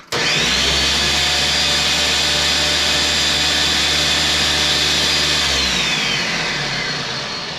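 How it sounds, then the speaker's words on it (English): A food processor runs chopping Komodo Dragon peppers, a loud steady motor whir held for about five seconds before spinning down, with no talk over it. "Chop peppers by pulsing in food processor"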